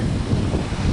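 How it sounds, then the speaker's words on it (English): Strong wind blows on a windy day in Bakersfield, Kern County, California, a loud steady roar of gusts buffeting the microphone for a brief moment. "when the wind picks up, it clears out all the smog"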